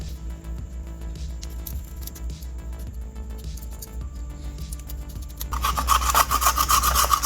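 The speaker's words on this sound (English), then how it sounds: "So we are grating this with the biggest holes, because otherwise it was just becoming like a paste." Pumpkin being grated on the biggest holes of a box grater, a close, rhythmic rasping scrape that gets louder and denser toward the end, with no speech.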